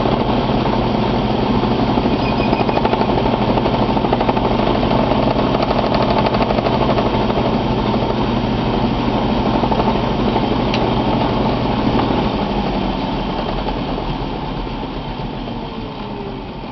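A custom wrench cutter scores a pipe stem spinning on a lathe, giving a loud, continuous close-up grinding drone that holds steady and then eases slightly toward the end.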